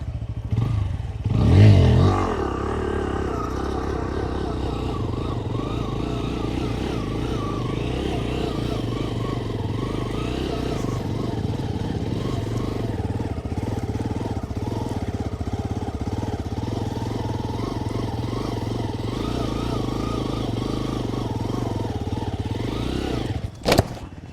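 Motorcycle engine running steadily while the bike circles slowly during a flatland stunt, a continuous close drone with a brief louder thump near the start and a sharp knock at the end.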